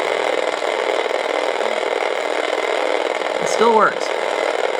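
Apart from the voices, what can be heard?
Kenner Electronics Red Line handheld electronic racing game sounds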